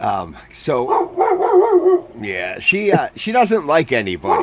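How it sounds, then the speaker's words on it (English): A dog barks and yips in the background at a live studio show while people keep talking over it, the sharp barks poking through the steady conversation. "oh, that's my dog."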